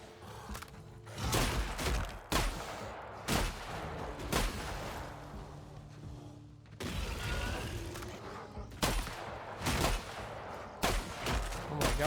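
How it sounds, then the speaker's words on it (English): Shotgun blasts in The Outer Worlds video game, several heavy booming shots spaced irregularly across the scene amid game ambience and mechanical clatter. "this shotgun kind of like really sucks"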